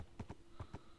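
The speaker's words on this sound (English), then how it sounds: "Horses are just so laggy when you ride them in servers." Horse hooves clip-clopping during a ride in the Minecraft video game, four distinct thudding steps in a steady uneven rhythm, near and moderately loud with no talk.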